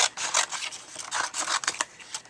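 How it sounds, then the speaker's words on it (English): Scissors snip close up through a paper heart in a crafting project, making a quick run of crisp, uneven cuts with short pauses between them. "I'm just going to grab my scissors and trim off one of these hearts"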